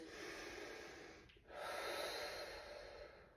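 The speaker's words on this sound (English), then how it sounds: "and then 3 breaths through the nose" Slow, deliberate breaths drawn in and let out through the nose during a core fascial exercise, a soft, airy rushing close to the ear with a short pause midway, quiet and alone.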